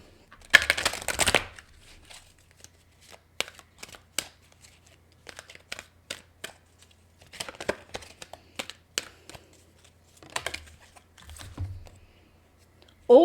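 Oracle color cards shuffled by hand in several quick bursts of crisp riffling and slapping close to the mic, separated by quieter card handling clicks and a few soft spoken words in between.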